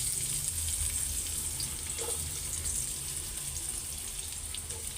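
Onions frying in a pan during home cooking, a steady soft sizzle with a hissing crackle that stays even and fairly quiet throughout, with no talking over it.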